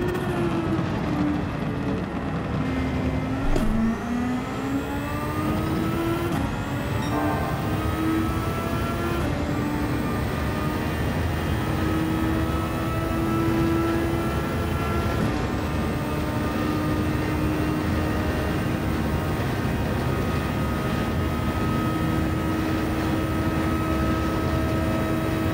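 A Le Mans race car's engine held at full throttle in Gran Turismo 7, a loud sustained whine that climbs in pitch with brief dips at gear changes, continuous and close with no talk.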